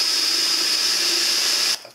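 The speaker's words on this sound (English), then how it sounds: "just drill the pilot hole all the way through to the floor" Power drill boring a pilot hole through wood down to the floor while boxing in a camper van wheel arch, a loud steady high whine that stops abruptly near the end.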